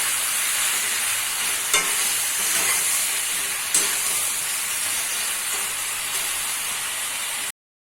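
Steady sizzle and hiss of sponge gourd frying in a pan with tomato and green chilli, with occasional stirring clicks, close by, then an abrupt cut to silence at the end.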